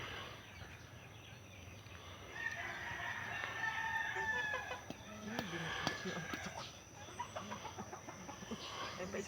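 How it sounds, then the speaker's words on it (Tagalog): Chickens cluck and squawk close by in a busy backyard, with overlapping bird calls and a rooster-like cry rising above soft background noise. "Ayun pa isang manok."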